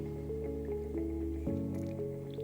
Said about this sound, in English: Make sure nothing's flowing out of there when you're rinsing it out like that